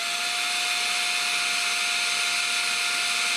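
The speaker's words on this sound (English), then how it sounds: "I got my little 1/4-inch Forstner bit in here. We're gonna drill this hole for the" A steady, high-pitched whine of a quarter-inch Forstner bit boring into balsa wood, constant and close, with no voices.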